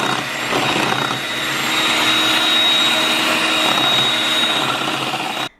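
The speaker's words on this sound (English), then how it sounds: "To get this heavy whipping cream nice and thick, it's good if you had a very cold bowl, cold whipping cream, and even cold whisk." An electric mixer whips heavy whipping cream until thick. A steady, loud motor whir runs for several seconds and then cuts off abruptly at the end, with no talking.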